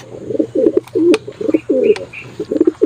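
Young pigeon squabs coo close by during leg banding, a rapid run of soft, throaty coos in short repeated bursts with faint higher chirps.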